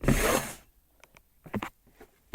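Close crinkling rustle of a plastic bag being handled during kitchen prep of a Popin Cookin sushi candy kit, one loud burst followed by a few soft clicks and taps, with no talking.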